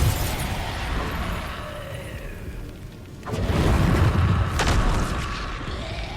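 A Confringo blasting spell exploding in Hogwarts Legacy, a rumbling blast that surges about halfway through over a dense background of game noise, loud and near with no speech.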